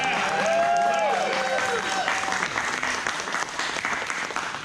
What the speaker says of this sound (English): can we get a round of applause for Fred and the Larson team back over there